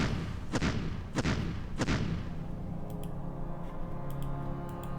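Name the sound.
artillery fire in video game Decisive Campaigns: Ardennes Offensive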